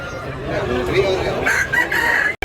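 A bullstag rooster lets out a loud, close crow with a rising, strained call, followed by a few clucks, while people talk quietly in the background before an abrupt cut.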